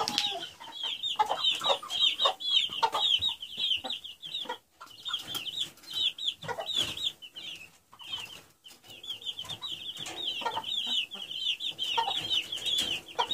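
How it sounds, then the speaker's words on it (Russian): A flock of Ross 308 chickens and a rooster cluck and chatter continuously nearby, a busy overlapping chorus of squawks and cackles with scattered louder calls. "Там петух идет сюда разбираться"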